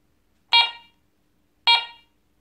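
A Garrett 400i metal detector, just switched on, gives two short bright electronic beeps about a second apart, each fading quickly, close and clear against a quiet background.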